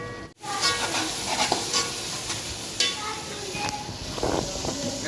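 Onions sizzling in about a cup of hot oil for a pea and potato curry, a steady frying hiss with occasional stirring scrapes and a brief dropout near the start.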